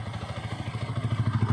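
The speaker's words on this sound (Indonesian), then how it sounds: "Nanti kita dengarkan bunyi mesinnya" The engine of a used motorcycle, checked before buying, runs close up with a rapid, even pulsing throb that grows slightly louder and more regular over about a second and a half, with no talking.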